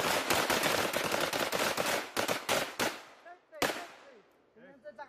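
Rifles fire in Marine close quarters battle training alongside Filipino troops: a rapid, close, loud volley of cracking shots for about three seconds, then a few scattered reports with faint voices between them.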